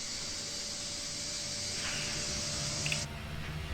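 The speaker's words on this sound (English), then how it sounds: "You can hear the APU kicking on." Boeing 757-200 auxiliary power unit starting up inside the cockpit: a steady high-pitched whine and airy hiss hold over a low hum, then the whine cuts out abruptly while the lower drone continues.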